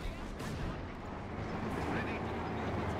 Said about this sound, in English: Oh, sorry, that was light artillery barrage.